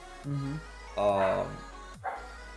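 A dog barks nearby in a few short woofs. A person talks between the barks.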